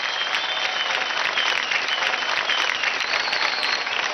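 Loud, steady applause from a television dance competition studio audience, dense clapping held evenly throughout without pause or talk.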